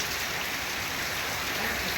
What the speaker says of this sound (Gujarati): એક જ બધી બાજુ થઈ એક જ ધારો વરસે છે